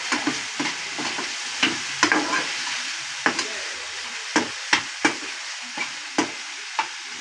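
Vegetable stuffing with pizza sauce cooking in a pan, a soft steady sizzle broken by repeated scraping taps of a spoon stirring, close and clear with no talking.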